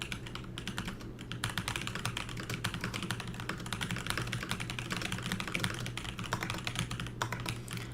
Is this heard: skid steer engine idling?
no